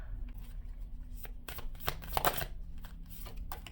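A deck of tarot cards is riffled and shuffled in soft, papery bursts and flutters, quiet and close, with a few sharper snaps among the rustling.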